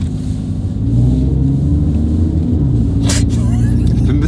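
Loud, steady engine roar and rumble from a Porsche 911 Turbo S built to 1300 hp, held close up, with people speaking over it and a brief sharper burst near the end.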